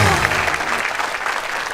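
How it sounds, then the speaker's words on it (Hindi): A studio audience at a TV comedy show claps loudly and steadily in a brief, dense burst of applause. "जोरदार तालियां रेखा जी के लिए।"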